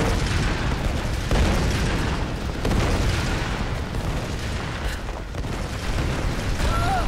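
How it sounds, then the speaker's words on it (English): Explosions in the video game Tomb Raider, a dense, continuous roar of booms and blasts that fills the whole stretch at high volume with no clear breaks. "why is everything else blowing up?"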